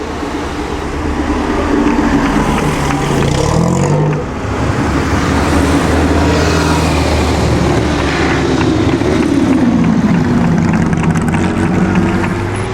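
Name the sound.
vintage race car downshifting, Mille Miglia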